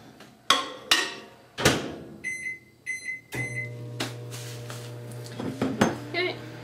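A slice of food is set onto a plate in a kitchen, with sharp clinks and clatters of dishes, followed by a few high electronic beeps from a microwave and its low running hum.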